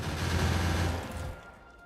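Automated turret gunfire in the video game Factorio fires as a brief, dense burst of rattling shots. It is loud at first, then fades out within about two seconds.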